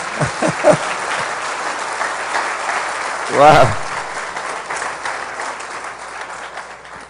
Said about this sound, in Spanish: Así que dese un aplauso por estar aquí.